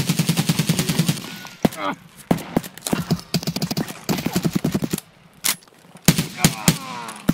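Gunfire in the video game Escape from Tarkov, with bursts of close, sharp automatic shots and scattered single cracks separated by short gaps, while someone talks now and then.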